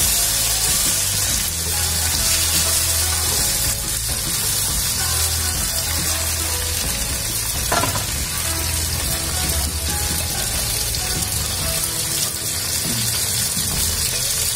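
Chopped kikil beef tendon goes into a pan of wilted onions, chillies and aromatics and sizzles steadily, a bright continuous frying hiss with faint clinks.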